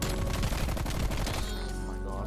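Dense, steady automatic gunfire in the multiplayer shooter Black Ops Cold War, an LMG rattling close and loud before a brief taper with no voice over it.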